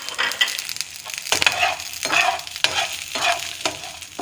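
Cumin, pepper and coriander seeds with garlic dry-roasting in a pan, a continuous crackle and rustle as they are stirred, with repeated scraping strokes at an irregular rhythm, close and moderately loud.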